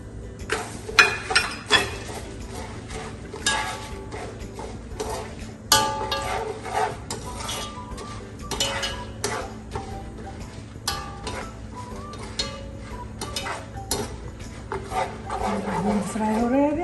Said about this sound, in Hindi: फ्राई हो रहा है अभी